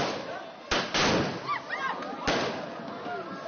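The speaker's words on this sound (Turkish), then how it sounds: "O anlarda şov meraklısı genç havai fişek kutusunu çevirmeye devam etti." Fireworks from a box going off at a Turkish wedding, with sharp bangs cutting through dense crackling and crowd noise, two loud bursts standing out.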